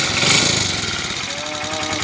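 Motorcycle engine running with a rough, knocking sound from a broken connecting rod, steady and close for a couple of seconds with a faint higher whine toward the end.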